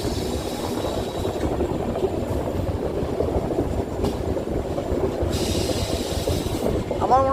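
A passenger train rolls steadily through forest on the Kamakhya to Siliguri line, with a constant rumble of wheels on rails, faint clatter and a brief squeal near the end.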